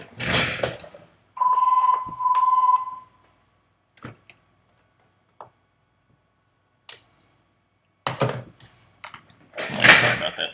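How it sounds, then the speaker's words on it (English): An office desk phone rings in two short electronic trills, fairly loud and close, followed by scattered clicks, a thump and a louder rustling burst at the end. "so phone might ring occasionally."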